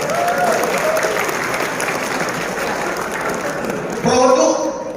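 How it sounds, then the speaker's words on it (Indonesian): Audience applause at a motivational seminar for farmers in Bogor, a steady wash of many people clapping, with voices rising over it near the end. "Tepuk tangan buat kura-kura."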